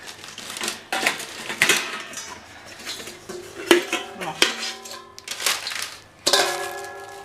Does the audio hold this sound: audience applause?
no